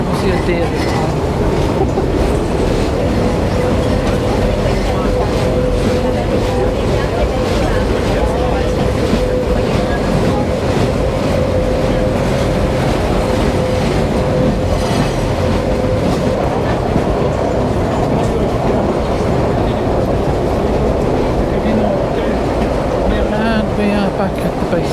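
A hillside tram in Turin rolls steadily down toward the Sassi base station. Its carriage gives a continuous loud rumble with rhythmic clickety-clack over the rails and a faint steady whine in the middle, heard close from inside the car.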